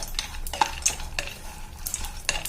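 Almonds tumble onto pumpkin seeds warming in a pan and get stirred, making quick rattling scrapes and light clicks of a spoon against the metal in a busy, close, uneven rhythm, with no voices.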